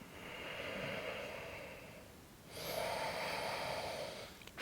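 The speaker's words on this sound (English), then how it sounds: "Breathing deeply and slowly." Two slow, deep breaths during a yoga flow, each a long airy inhale or exhale lasting a couple of seconds, close and fairly soft, the second slightly stronger and ending in a brief sharp catch.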